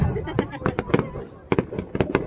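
A rapid volley of fireworks crackles and bangs at an outdoor display in rainy weather, several sharp distant bursts in quick clusters while people chat close by.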